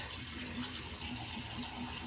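Tap water running steadily into a sink to dampen a cloth during an evening skincare routine, a soft continuous splashing hiss with no speech.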